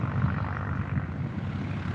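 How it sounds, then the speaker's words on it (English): Propeller planes at Moorabbin Airport preparing to take off, a steady low engine drone holding evenly throughout, moderately distant, with no talk. "Sounds like a few planes are about to take off again."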